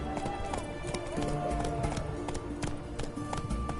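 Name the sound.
horse Roach galloping, from the video game The Witcher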